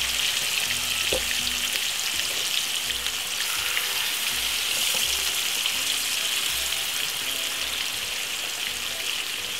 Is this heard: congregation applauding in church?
no